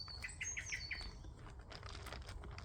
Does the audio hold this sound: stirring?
no